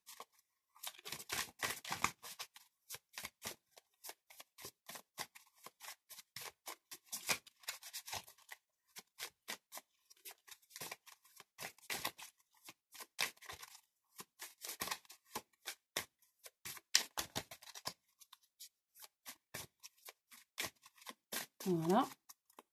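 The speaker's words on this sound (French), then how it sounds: "je vais en tirer 3 cartes après les avoir brassées." Oracle cards riffled and shuffled by hand, rapid crisp flicking bursts repeated many times, close and quiet with brief pauses between runs.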